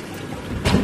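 Water poured into a pan of pancit bihon rice noodles with soy sauce during home cooking, a short close splashing rush that builds toward the end.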